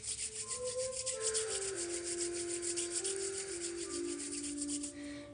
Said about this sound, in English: We're going to have you take your hands, rub them together.